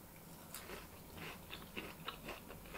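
Close, quiet chewing of air-fried cauliflower coated in lard, with a series of soft crunchy bites and mastication over a few seconds and no talking.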